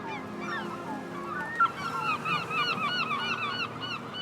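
Seabirds call continuously across a breeding gull colony on sheer Brittany sea cliffs in spring, a dense overlapping chorus of honking, yelping cries.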